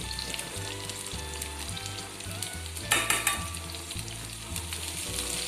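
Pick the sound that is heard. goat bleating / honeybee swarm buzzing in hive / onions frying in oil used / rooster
onions frying in oil used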